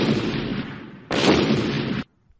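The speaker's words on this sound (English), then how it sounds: "Then I heard an explosion." Excavation blasting near a river rendered as an explosion effect: two heavy booming bursts, the second louder, each rumbling about a second before cutting off into silence.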